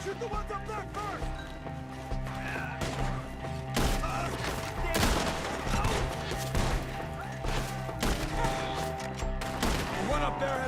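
Gunfire in a Red Dead Redemption 2 shootout at Beecher's Hope rings out in scattered sharp bursts among trees, mixed with a steady game soundtrack and shouting voices.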